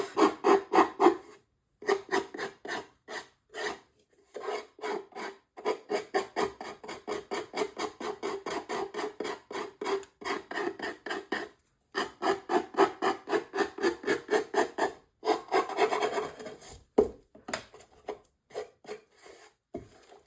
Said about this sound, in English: So I'm just gonna sand that, basically just that little tiny bit off.